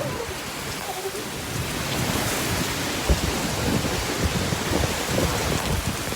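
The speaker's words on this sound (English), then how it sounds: "This is really a heavy storm tonight." Heavy thunderstorm rain pouring onto a street at night, a dense continuous hiss with splattering drops and low rumbling, steady and loud with a brief sharper spike midway.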